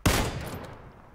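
A single sharp shot of gunfire in the PUBG battle royale game, with an abrupt loud onset and a rumbling decay trailing off over about a second; no voices.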